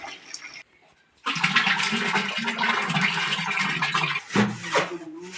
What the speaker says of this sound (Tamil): இப்போ மீதிக்கு வந்து தண்ணி ஊற்றி கரைக்கிறோம் சாணியை நல்லா.